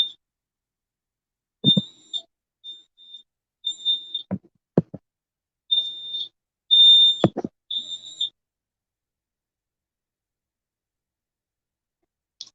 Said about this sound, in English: I can't shut this fire alarm up.